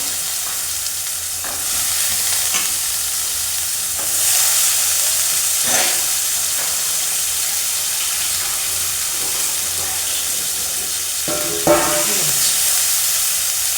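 Green peas tipped into hot oil in a pan for a turnip and pea curry, a steady loud sizzle and hiss with occasional stirring scrapes, close by and without talk.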